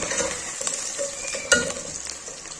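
Onions fry with whole spices (cinnamon, black cardamom, cloves, star anise and black pepper) in a pan for matar pulao, making a continuous close sizzle with a few utensil scrapes.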